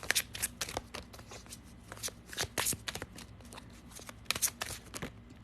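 Love cards for a card reading shuffled by hand close up, a rapid run of crisp riffles and flicks in repeated bursts, with no talk.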